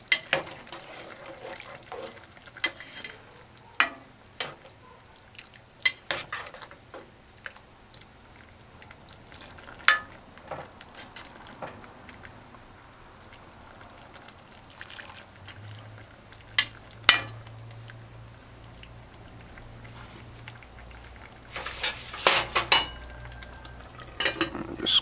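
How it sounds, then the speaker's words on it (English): Cow tripe stew with beans being stirred gently in a pot, soft scattered scrapes and clinks of a utensil against the pot over a quiet simmer, with a low background hum appearing later. "And stir it gently."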